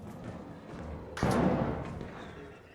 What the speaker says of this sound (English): sounds like there's a roller guy coming up